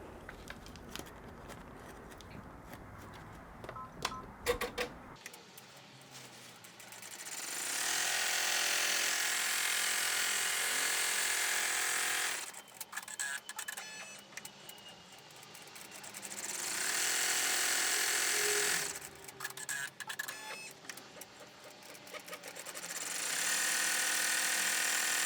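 An embroidery machine stitches a tack and bean stitch around a tab on an in-the-hoop passport cover, a steady loud mechanical whirring run that pauses and restarts in three long bursts, with no talking.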